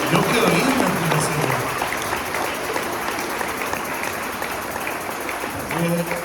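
A church congregation applauds during a Spanish-language evangelical sermon, with sustained, fairly loud clapping from many people. A voice speaks over it at the start and again near the end.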